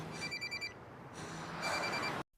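A telephone rings in a Korean drama scene, a bright repeating electronic ring over a low background, cutting off abruptly.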